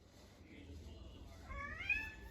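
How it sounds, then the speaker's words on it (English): A cat gives a single rising meow near the end, faint against a quiet room with low background hum. "Excuse my cat."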